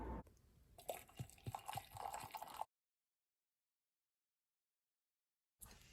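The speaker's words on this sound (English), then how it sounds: "So I'll go ahead and pour the water in." Water is poured into a mug printed with the band members' names, giving a close, splashy trickle with small drips for a couple of seconds before silence, then a brief return of sound at the end.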